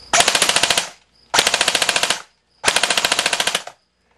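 A Code-8 PTW airsoft gun fires three loud full-auto bursts, each a rapid rattling string of shots lasting about a second, separated by short pauses, recorded close in a garage.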